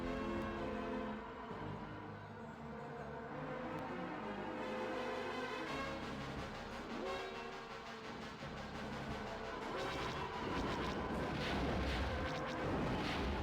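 Explosions in the Star Wars Rogue Squadron video game, a loud, dense stretch of blasts and rumbling under a constant game soundtrack, growing heavier and more crowded toward the end.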